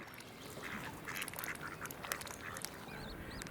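Mallard ducks quacking in a few short, scattered calls at a moderate distance, set against steady outdoor background noise.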